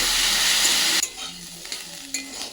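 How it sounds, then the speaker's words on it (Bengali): Potatoes coated in salt and turmeric hit hot mustard oil in a kadai, starting with a loud hiss that cuts off abruptly, followed by quieter sizzling and a few stirring clinks. "আলুটাকে লাল লাল করে ভেজে নেব"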